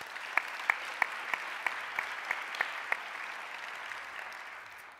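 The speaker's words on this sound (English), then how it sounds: "they deserve a round of applause too" Audience applause at a public health conference session, honoring two leaders on stage: a steady, even wash of many hands clapping with a few sharper claps standing out, heard alone and easing off toward the end.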